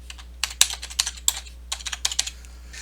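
A password is typed on a computer keyboard while installing Ubuntu on a Windows 10 PC, with close, quiet key clicks tapping in irregular quick bursts over a low steady hum.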